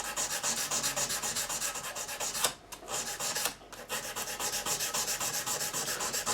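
A guitar fret on an Epiphone SG-400 is rubbed with 400-grit sandpaper in fast, steady back-and-forth strokes, close and even, with two short pauses midway.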